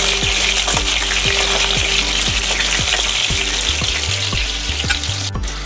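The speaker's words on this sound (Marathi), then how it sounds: "तेलामध्ये वांगी छान आपल्याला लाल होईपर्यंत छान आपल्याला परतून घ्यायचे आहेत।" Stuffed eggplants fry over a low flame in oil with a continuous loud sizzle, while a regular series of soft knocks and scrapes repeats through it; no one speaks.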